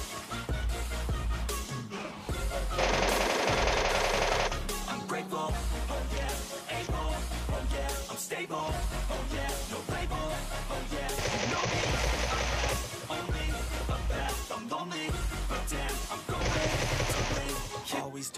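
Heavy PUBG Mobile gunfire from an MK14 and a Groza comes in several loud, sustained bursts separated by short pauses, each volley dense and close over a thumping low background.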